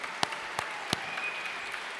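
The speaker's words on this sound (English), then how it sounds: "A big applause for our International Cooperatives Day" Audience applause at a co-operative congress celebrating International Cooperatives Day, a steady wash of clapping with a few sharper individual claps standing out, moderately distant and even in level.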